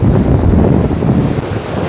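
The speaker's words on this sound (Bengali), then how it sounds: "দেখো জলের কি ঢেউ এখানে।" Sea waves at Bakkhali beach, a loud, continuous roar of surf mixed with buffeting wind noise on the microphone, close and dense throughout, with no voices.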